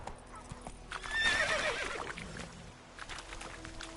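A horse in The Witcher 3 galloping, its hooves clip-clopping under a loud neigh that swells in the middle, with no voices.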